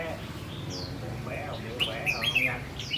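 Chirps and short whistled calls from a caged decoy bird, bright and fairly close, rising into a quick cluster of notes near the end over a steady low background hum.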